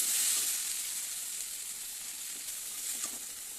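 Okra sizzles loudly in a hot pan, a bright continuous frying hiss that swells at the start and then settles into a steady crackle, with a few faint stirring scrapes and no voices.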